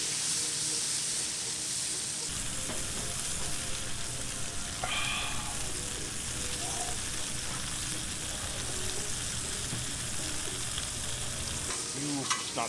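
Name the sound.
food sautéing on a Blackstone griddle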